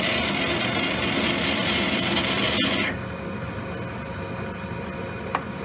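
A lathe cutting an Acme thread on a home-built machine, giving a steady loud rasping, grinding cut for about three seconds that then drops to a quieter continuous machine hum with a faint click near the end.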